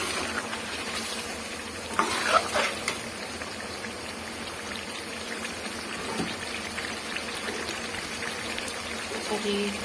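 A yogurt mixture for mutton Sindhi biryani stirred with a spoon, heard as soft scraping and gentle sizzling close by, with a couple of louder clinks near the start and a voice talking faintly underneath.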